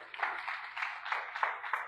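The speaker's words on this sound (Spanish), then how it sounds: "Damos un aplauso al Señor" A church congregation claps for the Lord in rhythmic bursts, a clear repeating pattern of about five hand-clap surges, moderately close and alone without speech.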